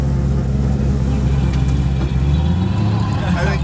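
Turbocharged 1000 hp 1965 Mustang with a sequential gearbox, its engine droning loud and steady with rising revs and turbo whine, close up and continuous throughout.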